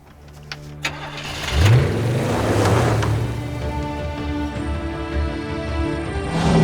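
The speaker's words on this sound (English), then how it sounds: "So I've arranged for a 1988 K5 GMC Jimmy to be my ride back to Cairo." A 1988 K5 GMC Jimmy engine cranks and fires up, then settles into a steady, rumbling run as the truck drives toward Cairo, with the engine noise close and continuous.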